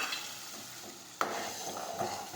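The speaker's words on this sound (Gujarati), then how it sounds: "હવે થોડી વાર સાતળી દઈશું. ટમેટા નાખીશું પીસેલા." Crushed tomatoes sautéing in a pan for a green urad dal curry give a steady, close sizzle, broken midway by one sharp clack of a spoon against the pan as they are stirred.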